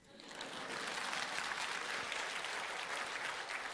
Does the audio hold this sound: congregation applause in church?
yes